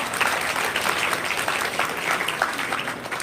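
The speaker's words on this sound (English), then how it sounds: "A big round of applause for the incredible flash mob" Audience applause after a student flash mob at an Independence Day celebration, with continuous, even clapping from a large crowd filling the whole stretch, without talk.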